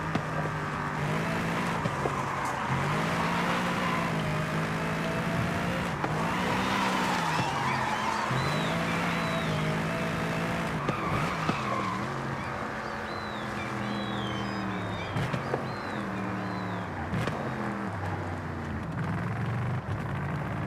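A tuned, high-torque car engine in Forza Horizon 5 revs and shifts through the gears, with rising and falling tones and squealing tires skidding during drifts, loud and continuous.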